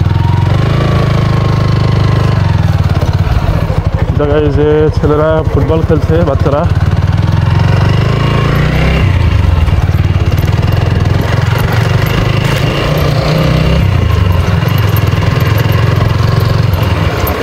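A motorcycle engine drones steadily and low throughout a ride, close and loud, while someone talks over it the whole time.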